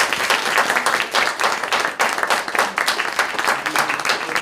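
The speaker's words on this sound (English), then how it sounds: "a big round of applause to you as well as these great speakers" Sustained applause from an audience closing a speakout session, dense and steady clapping filling the room at close range for several seconds with no talk over it.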